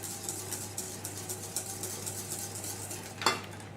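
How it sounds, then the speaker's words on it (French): Stirring boiling coconut milk into whitened eggs in a pan for a crème anglaise, a close, steady scraping and swishing rhythm with a faint hum underneath and one sharp clink near the end. "j'incorpore le lait de coco bouillant"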